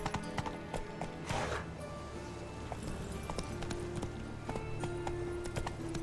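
Horse hooves galloping in The Witcher 3 on the streets of Novigrad, a steady rapid clip-clop running throughout with a brief whinny, set against game ambience.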